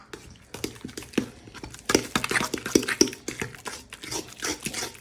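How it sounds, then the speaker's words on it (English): A spoon stirring chopped onion into mayonnaise in a bowl, close and uneven scraping and clacking against the bowl's sides, growing busier and louder partway through, with no talking. "We're going to stir that all together."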